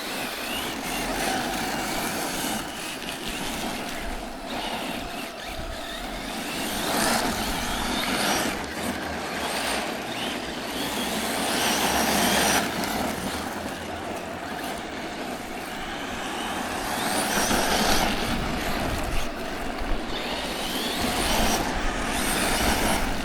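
A Reely Proto RC car drifts on gravel around two cones, its electric motor whining and its tires scattering stones in a steady, loud wash of noise throughout, with no talking.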